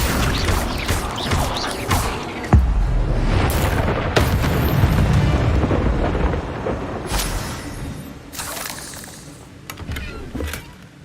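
The Incendio fire spell cast in Hogwarts Legacy, a heavy booming whoosh of flame that rumbles for several seconds and then fades into scattered crackles and softer bursts.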